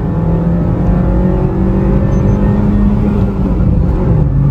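Drag race between a Maruti Baleno petrol and a Honda City CVT, one car held at full throttle in third gear: a loud, steady engine drone with a deep rumble, close and continuous, no talking.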